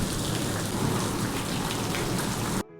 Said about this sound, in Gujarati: વરસાદ પણ થઈ ગયો ચાલુ